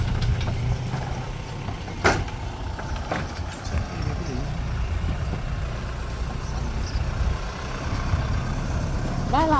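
A cattle truck carrying young bulls pulls away, its engine rumbling steadily and close with a couple of sharp knocks and a brief hiss, while voices talk faintly in the background.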